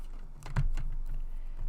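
A single crisp slice through cardstock with a paper trimmer, made while preparing a pinwheel card border; one short scraping cut near the mic, quiet and alone, with light handling clicks around it.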